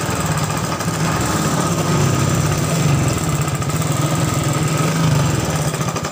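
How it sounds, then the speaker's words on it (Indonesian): A Suzuki Shogun motorcycle engine fitted with a Supra CDI runs at a steady idle, a continuous buzzing drone with a rapid even pulse, close and fairly loud throughout with no voices. "motornya hidup guys. Ini motor Shogun gitu ya"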